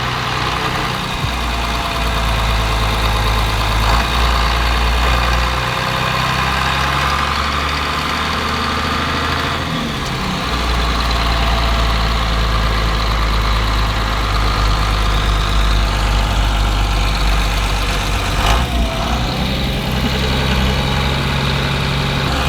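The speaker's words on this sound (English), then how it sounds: "they see our Land Cruiser and then they hear the Cummins" A Cummins diesel swapped into a Toyota Land Cruiser idles steadily and loudly up close, its deep rumble and faint knock running unbroken for the whole stretch with no talk.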